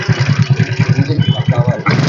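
A 2012 Splendor motorcycle engine runs close by with a rapid, even putt-putt thumping that rises in revs just before the end.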